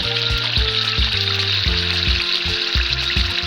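Duck meat curry bubbling and frying in a pan, a dense, continuous close sizzle with popping bursts and a low rhythmic bubbling underneath, no voices.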